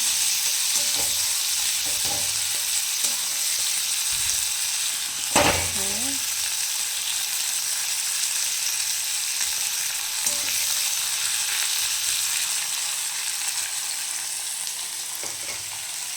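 Continuous sizzling of whole spices frying in hot oil in a wok, with soft scraping and clinking as they are stirred, and one louder scrape partway through.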